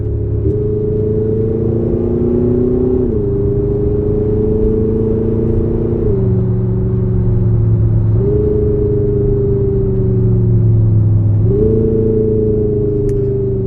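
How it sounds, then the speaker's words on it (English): Ford Mustang GT500 exhaust giving a steady, droning rumble that rises and dips in pitch several times as the revs are held and shifted, loud and close with no talking. "Next one we're going to go is the Mustang GT500."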